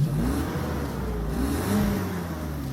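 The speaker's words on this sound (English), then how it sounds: "you get a massive 5-liter V12 making around 300 horsepower, and it sounds like this." A 5-liter V12 car engine revs steadily, rising and falling in pitch with a deep, smooth hum, fairly close and with no one talking.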